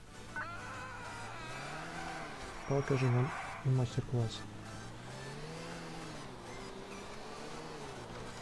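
Car drifting and revving in GTA Vice City: a wavering engine drone rises and falls with bursts of tire squeal midway, while people talk over the game sound.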